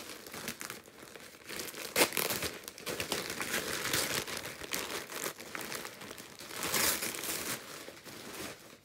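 Crinkly plastic bag and stiff brown paper wrapping of a mailed package being torn and opened up close, a steady run of crackling rustles with sharper ripping bursts, no voices.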